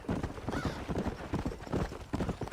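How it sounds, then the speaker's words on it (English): Horse hooves clip-clopping in the video game Red Dead Redemption, a steady, close, continuous rhythmic patter of hoofbeats that fills the whole stretch with no talking over it. "There's a lot of wild horses around here."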